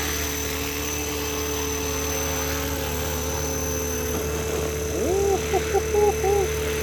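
A model helicopter coming in to land after its maiden flight, a steady whining rotor and motor hum throughout, moderately close, with a few brief tonal chirps toward the end.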